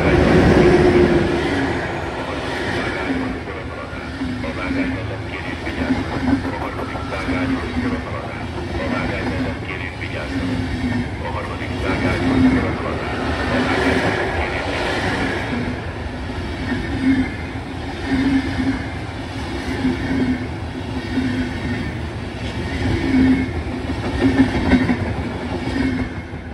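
A train passes through on the third track of a Hungarian railway station, a loud sustained rumble with rhythmic rail clatter while a recorded announcement plays over the noise.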